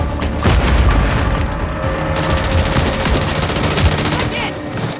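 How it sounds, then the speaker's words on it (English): Heavy, booming blasts and rapid gunfire from a Call of Duty match sound close and loud, with a grenade explosion among dense, continuous combat noise. "Throw grenade!"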